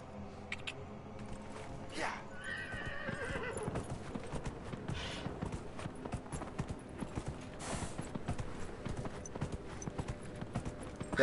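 A horse gallops and neighs in the video game Dragon Age Inquisition, its rapid, steady hoofbeats running the whole way with a loud whinny rising partway through and some talk over it.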